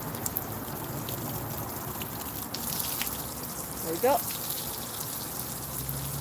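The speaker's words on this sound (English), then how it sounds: "Just squirting the water." A garden hose sprays and patters water steadily onto surfaces, with a brief louder gush and a short spoken remark partway through.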